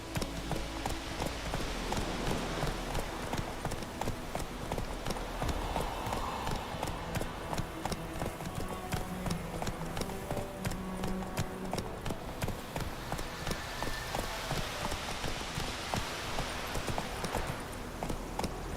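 Roach the horse galloping in The Witcher 3, rapid rhythmic hoofbeats clip-clopping steadily over a dense game soundscape, with faint voices and ambient music underneath.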